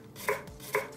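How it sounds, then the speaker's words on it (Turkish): Two crisp knife chops cut through an onion on a cutting board, evenly spaced and close by, with nothing else around them. "Soğanlarımı da şu şekilde bir ortadan ikiye bölüyorum ve daha sonra ise bir kesik atıyorum"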